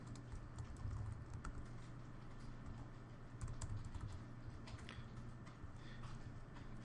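Steady computer-keyboard typing during a programming lesson, a fairly quiet run of continuous key clicks over about seven seconds with a constant low background hum.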